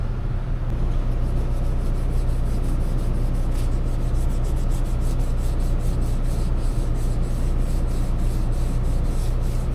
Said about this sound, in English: so I'm gonna sand it, and then they both should be ready to paint